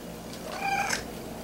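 A house cat gives a single short meow, close and fairly clear, over quiet background hiss with no one speaking.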